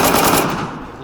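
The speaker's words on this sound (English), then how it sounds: "I hear those shots." Video game gunfire in a loud, rapid automatic burst that fills the whole brief moment, with no voices over it.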